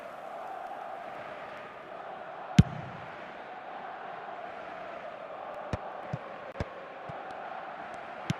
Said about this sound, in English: certainly gave this crowd something to really cheer about